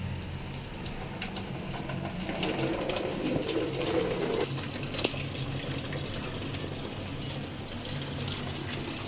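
Cooking water gushes out as boiled rice for Arabic Maqlooba is drained, a steady rushing pour that swells in the middle before easing back to a trickle-like hiss.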